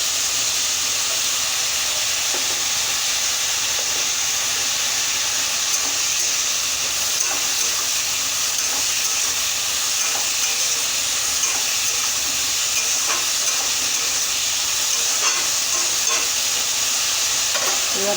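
Spices with salt and turmeric sizzle and fry in a pan while being stirred, giving a loud, steady hiss with faint scraping throughout and no talk.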